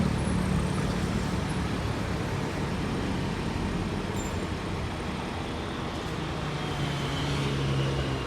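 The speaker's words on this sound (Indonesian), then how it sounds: "Udah sampai busnya teman-teman" A Rosalia Indah bus pulls in at a roadside stop, a low diesel rumble and steady road noise at moderate distance, with a faint rising whine near the end.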